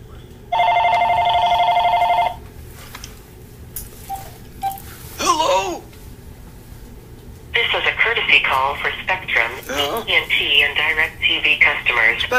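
A telephone rings with a single long electronic burst at the start of a scam call, followed by a recorded promotional voice speaking over a line.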